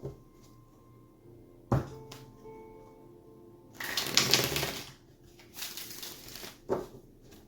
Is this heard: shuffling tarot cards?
yes